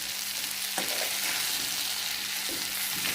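Okra and onion curry sizzles in a pan while it is stirred and cooked, a constant broad frying hiss with a few soft scraping clatters, close and steady, no voices.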